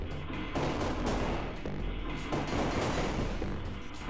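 Dense continuous gunfire from the video game Overwhelm, rapid loud bursts overlapping into a sustained crackling barrage with no pauses.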